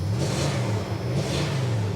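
A Dodge Dakota's optional 5.2 liter V8 revs in two quick swells, rising and falling, steady and fairly close, with a deep rumble under each push and no talk over it.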